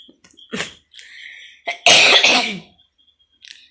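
Several sharp coughs with a throat-clearing rasp, close by: short bursts early, then a louder, harsher cough cluster near the end.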